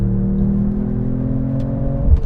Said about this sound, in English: Distinctly a 3-liter turbocharged inline 6.